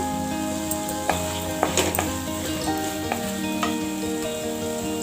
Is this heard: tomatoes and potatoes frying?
yes